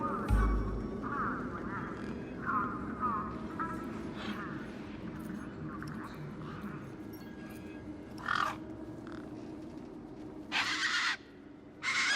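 Tough desert birds in the game Beyond a Steel Sky let out a few brief quacking calls over a low ambient hum, with a narrator's voice alongside.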